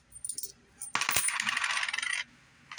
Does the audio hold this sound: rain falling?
no